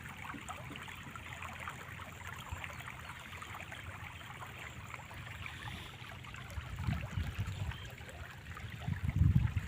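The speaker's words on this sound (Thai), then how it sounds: "น้ำไหล" Floodwater flowing across a rice field in Yasothon, Thailand, a steady broadband rush like a stream, swelling louder and closer toward the end, with no talk over it.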